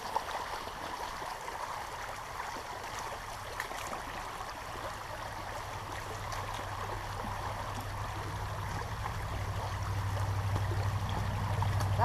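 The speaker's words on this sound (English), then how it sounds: "the last thing we have to do to make sure our equipment is returned clean to the tech room is rinse out the net" Water runs steadily over a kick-and-sweep sampling net as it is rinsed clean, a continuous close splashing hiss that grows slightly louder toward the end.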